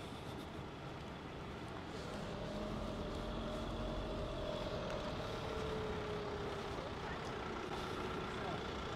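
A Wingamm Oasi 540, a tiny Italian RV, maneuvers slowly into a parking spot next to a Toyota, giving a steady low engine drone with faint tonal whines over a constant background.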